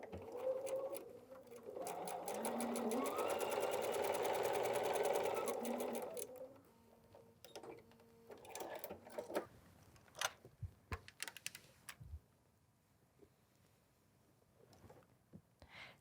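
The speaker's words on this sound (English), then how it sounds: "Let's go sew that together." A sewing machine joins quilting fabric for a wall hanging in one steady run of several seconds, then stops, leaving faint handling clicks and rustles.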